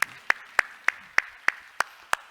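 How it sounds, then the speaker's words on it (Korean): Church congregation clapping in time, eight sharp, evenly spaced claps about every third of a second, moderately loud with no talk. "우리 하나님께 영광의 박수합시다."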